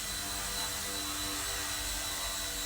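An Eachine E129 RC helicopter takes off and flies indoors in a confined space, its small rotor and motor giving a steady, close, high-pitched whine that holds constant throughout.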